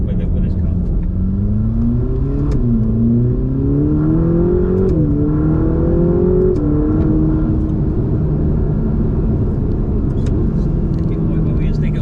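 A Ferrari engine revs and accelerates, its pitch climbing through rising sweeps with a couple of shift steps, then settling into a steady drone, heard from inside the car under people talking.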